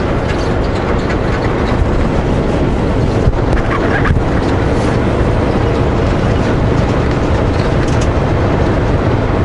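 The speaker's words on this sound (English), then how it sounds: "I hear a train." A train rumbles along tracks beside a highway, a dense low continuous roar heard over road and wind noise at steady loudness.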